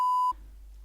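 A short, loud, pure censor bleep tone lasting about a third of a second, cutting off abruptly into quiet room noise.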